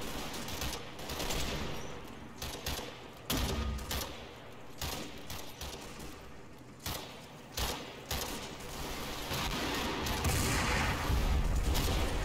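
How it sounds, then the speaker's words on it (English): Heavy .303 Bren gun bursts and 2-inch mortar high-explosive rounds fire in a video game battle. There are repeated rattling automatic bursts and thudding booms, fairly distant, building into a continuous fusillade toward the end. "I retaliate with heavy 303 fire from Brenz and HE fire from 2-inch mortars."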